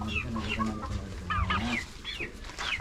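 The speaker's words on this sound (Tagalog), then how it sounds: "labing tatlong manok, dalawang pabo" Several chickens cluck and chatter nearby in short, overlapping calls, with a low background hum.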